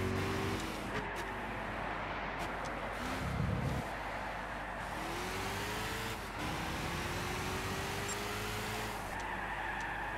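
A Corvette races in Gran Turismo 6, its engine droning and rising through gear changes, with a brief tire skid partway through. The sound is steady, fairly quiet and continuous, with no speech.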